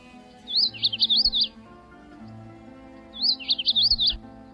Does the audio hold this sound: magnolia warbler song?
yes